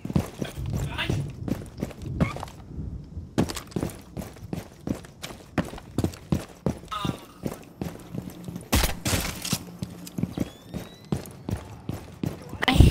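Enemy footsteps in the game Rainbow Six Siege, a steady run of quick thudding steps mixed with gunfire-like bursts and game sounds, with talking over them.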